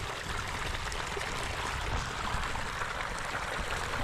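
Irrigation water flows steadily through a channel toward fruit trees on a farm, a continuous soft rushing and trickling with no voices.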